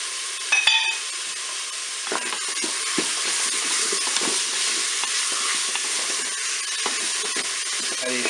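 Chicken browns in a Cookeo multicooker with persillade added, giving a steady close sizzle with occasional scrapes and stirring clicks throughout, no voices.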